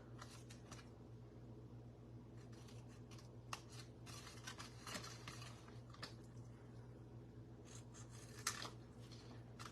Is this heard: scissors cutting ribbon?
yes